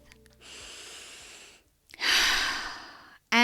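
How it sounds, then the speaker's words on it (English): A deep breath, drawn in and let out slowly and audibly close up in a quiet space, before a voice begins at the very end. "take a deep breath"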